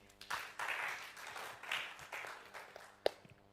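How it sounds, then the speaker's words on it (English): Audience at a Bible quiz contest gives a short burst of applause for a contestant's correct answer, moderately distant clapping swelling and fading in waves, ending with a single sharp knock. "Let's clap for him."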